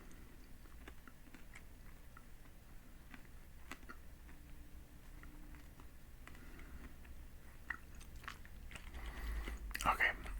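Chewy candy being chewed close to the mic, with soft, wet, sticky clicks and smacks spread through the clip under a quiet whispered voice, growing a little louder near the end.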